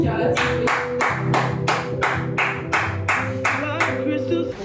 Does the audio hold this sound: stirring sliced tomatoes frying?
no